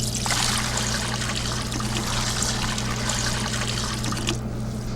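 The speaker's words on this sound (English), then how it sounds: "pour water up to about 2 inches from the top of the bowl." Water pours steadily into the bowl of a fudge kettle with its motor running, making a loud, continuous splashing rush over a low mechanical hum. The sound thins out briefly at the very end.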